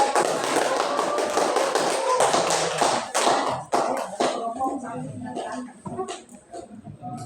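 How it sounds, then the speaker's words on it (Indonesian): A classroom of people claps, starting loud and dense, then thinning into scattered, uneven claps before fading out. "ini kasih tepuk tangan dulu nih"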